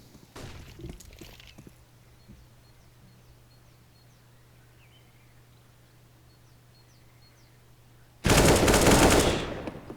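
Counter-Strike match gunfire: a short burst of shots at the start, then quiet with a low hum, and a loud, dense rattle of automatic fire near the end.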